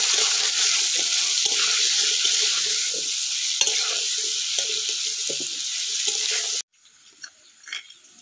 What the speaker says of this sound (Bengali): ভালো করে পেঁপেগুলোকে ভেজে নেব